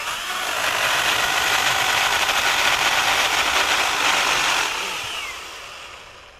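An EGO 56V 10-inch electric pole saw cuts through a tree branch with a loud, steady whine for about five seconds, then winds down as the cut finishes and the motor fades, with no talking.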